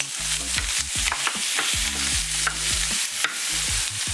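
Garlic and onions, green and red, frying in a pan for a chickpea and shrimp dish, with steady close sizzling and repeated scraping strokes of a utensil stirring throughout, no voices.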